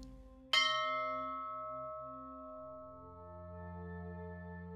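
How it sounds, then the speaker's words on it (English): A meditation bell is struck once, its bright metallic tone ringing out loud and close, then sustaining with layered harmonics that slowly fade over a soft low hum. "when you hear the bell, slowly open your eyes."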